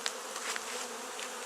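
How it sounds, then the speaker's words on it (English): A honey bee swarm being moved into a top bar hive gives a continuous soft buzzing hum, a few individual bees droning briefly closer over the steady drone. "I could keep on encouraging the bees to go in there, but they know what to do"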